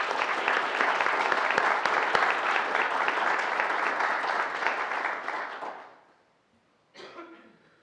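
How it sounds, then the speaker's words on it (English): Room-filling applause at a city council work session, many hands clapping steadily and loudly for about six seconds, then fading quickly into silence before a short cough-like noise. "I would love to give her a round of applause for what she did."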